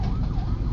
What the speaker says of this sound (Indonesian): ada juga ambulan yang lewat, lagi macet